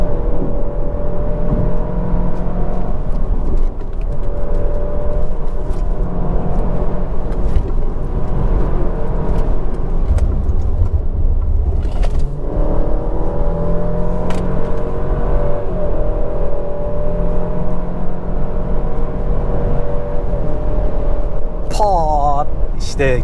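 Alfa Romeo Giulia Quadrifoglio, 510 hp, accelerating with a steady engine drone and rising whir heard from inside the cabin, under talking throughout, with a brief rising whine near the end.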